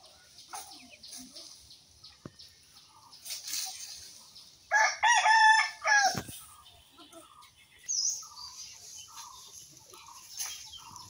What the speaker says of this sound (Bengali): দেখেন আমার খামারের বড় লাল মোরগটা ঘুরতেছে বাগানের ভিতরে স্বাধীনভাবে।